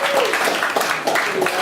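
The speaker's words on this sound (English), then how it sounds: "Give yourself a round of applause." Comedy club audience applauding and cheering at a stand-up show, a steady dense wash of clapping filling the whole moment with voices mixed in.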